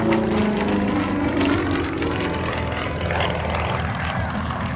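A Yak-50 aerobatic airplane with a 435-horsepower engine snap rolls on a down line at the Cold Lake Air Show. Its propeller engine gives a loud, continuous, throaty roar that holds steady throughout.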